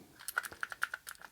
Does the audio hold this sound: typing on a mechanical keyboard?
yes